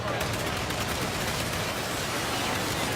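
A Terran Mosquito aircraft in Planetside 2 firing a full volley, a dense continuous rattle of rapid gunfire filling the whole stretch, loud and unbroken.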